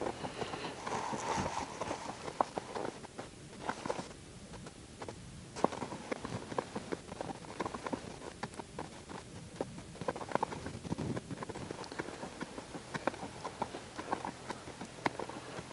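A horse walks on the ground, its hooves making faint, irregular clip-clops under a steady wash of outdoor background noise.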